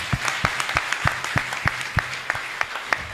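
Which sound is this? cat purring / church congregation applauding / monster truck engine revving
church congregation applauding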